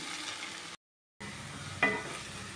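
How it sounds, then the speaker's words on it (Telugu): Ridge gourd stir-frying in a pan over a medium flame, a steady soft sizzle with a brief stirring scrape near the end and a short gap of silence partway through. "కొంతసేపు మీడియం ఫ్లేమ్లో పెట్టి ఫ్రై చేద్దాము"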